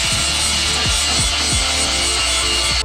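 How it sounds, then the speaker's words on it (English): A power grinder works down filled-in welded metal on a BMW E36, giving a steady loud abrasive whine with bright high hiss and a few low rubbing sweeps as it passes over the surface, with no talking. "We'll just grind that down."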